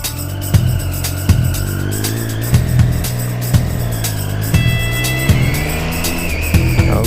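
Triumph Street Triple R motorcycle accelerating through gears, a loud close engine whine climbing in pitch with sharp periodic pops and surges at each shift.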